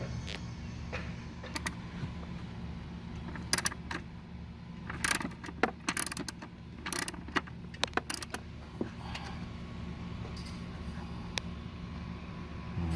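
A tool is fitted onto the hex screw of a Mercedes W204 C-Class C250 battery and turned loose, giving scattered sharp metallic clicks and rattles close by over a low, steady background hum.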